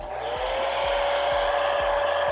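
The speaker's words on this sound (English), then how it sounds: "And your blow dryer too." A blow dryer runs on a wig with a steady close-up whirring hum and airflow rush, constant throughout and no voices.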